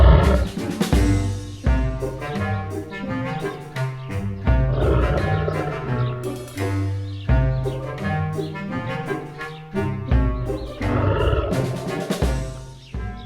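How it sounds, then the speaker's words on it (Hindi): A lion roars repeatedly in a jungle, deep powerful calls rising and falling over about thirteen seconds, loud and close with no talking. "उसी जंगल में एक शेर भी रहता था।"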